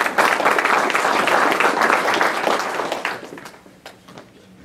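An audience applauds at an annual awards ceremony: loud, dense clapping from a crowd that fades away over a few seconds.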